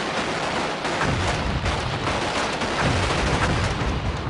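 Dense, continuous gunfire during street fighting in Fallujah, Iraq, shots overlapping into a loud, rough wash with no clear gaps for the full stretch.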